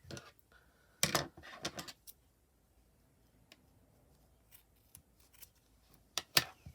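A few crisp snips of scissors cut through tied-off string, coming in short separate bursts with quiet gaps between, close by and fairly loud.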